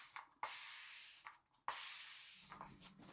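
Water sprayed in loud hissing bursts onto a bar of unscented soap, with two short pauses between the sprays.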